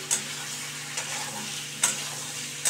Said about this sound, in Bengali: চিংড়ি মাছটাকে দিয়ে এবার কিন্তু ওকে ভালো করে কষিয়ে নিতে হবে